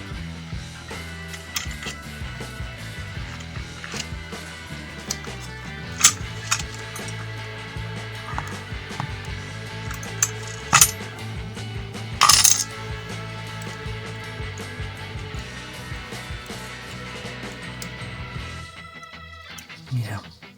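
Small taper pins are worked out of a Tesa TE5 euro cylinder lock, producing scattered light metallic clicks and ticks with a few sharper clinks of pins dropping, close and fairly quiet, with a voice faintly present.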